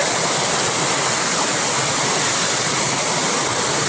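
A small spring-fed stream flows steadily, its close, loud, even rush of water filling the whole stretch without a break or any voices.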